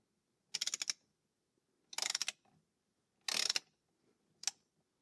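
Ratchet wrench tightening a bolt during instrument cluster installation on an R107 car, four short bursts of rapid clicking separated by pauses, close and fairly quiet with no talk.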